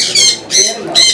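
A bird at a pet park gives three loud, harsh squawks, each about a quarter second long and evenly spaced close by, with faint background noise between.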